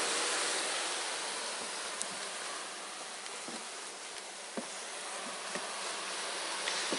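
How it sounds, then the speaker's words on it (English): A dense, steady hum of many honey bees buzzing close by from a package, continuous and loud, with faint clicks and taps now and then. "Look at how many bees in that package, Alan."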